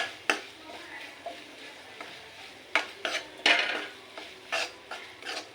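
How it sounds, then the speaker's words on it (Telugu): Onions fry with ginger garlic paste and turmeric in a pan, heard as a soft sizzle broken by scattered scraping stirs and light clinks of the spoon against the pan, with no one talking. "ఇలా మిక్స్ చేసుకున్నాక అల్లం వెల్లుల్లి అనేది పచ్చివాసన పోయేంత వరకు ఫ్రై చేసుకోవాలి"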